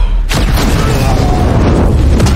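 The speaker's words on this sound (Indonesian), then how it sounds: "Ledakan besar mengguncang, musuh pun hancur seketika." A grenade explosion booms loud and deep and rumbles on, with a second burst near the end, dense and overwhelming.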